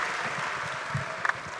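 Audience applause for Gibran at a Prabowo-Gibran national campaign consolidation gathering, a brief, steady wash of dense clapping with a couple of sharper claps near the end.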